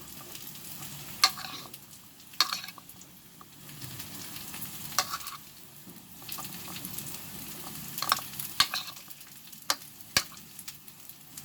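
Onion sizzles in a pan as cauliflower is tossed in corn flour, with a low steady frying hiss broken by sharp, irregular scrapes and clinks of stirring.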